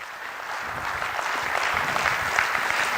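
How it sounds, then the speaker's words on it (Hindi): An audience claps steadily to welcome a speaker at a business presentation on a software company's revenue model, a dense, even wash of applause holding at a constant level throughout. "तालियां बजती रहे सर।"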